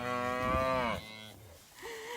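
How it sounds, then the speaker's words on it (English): Cattle on a farm lowing, one loud harmonic moo lasting about a second, then a quieter second call rising near the end, close by with no talk. "the reason those cows just made a lot of noise"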